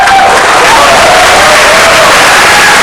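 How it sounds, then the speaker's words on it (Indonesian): A loud studio audience at the Mata Najwa talk show claps and cheers in a dense, sustained roar of applause, with a faint voice rising over it. "Tepuk tangan dong untuk perempuan muda hebat."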